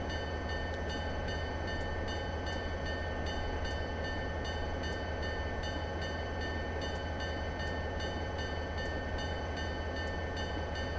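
The bell of an EMD SD40-2 locomotive in the Train Simulator 2014 game clangs at a steady, even rhythm, ringing on and on over the constant drone of the idling diesel engine.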